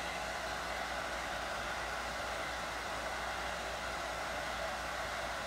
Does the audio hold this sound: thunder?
no